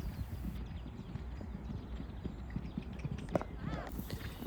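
Hooves of a ridden horse during a training session, with a fairly soft, rhythmic clip-clop of repeated hoofbeats at a steady working pace, plus a brief squeaky sound near the end.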